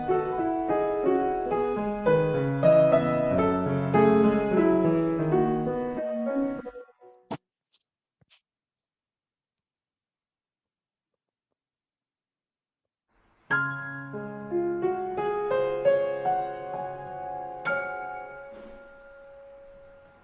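A solo piano plays the ending of a gamelan-like piece with ringing chords. A few sharp clicks and several seconds of silence separate two close, clear passages, and no one speaks.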